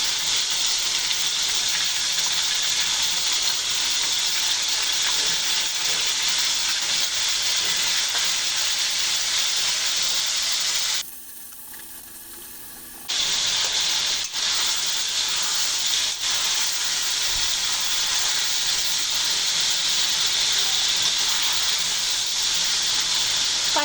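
Chicken with onion, green chilies, ginger paste and garlic paste frying in a pan, a steady loud sizzling hiss that runs throughout, broken by a brief near-silent pause midway before resuming.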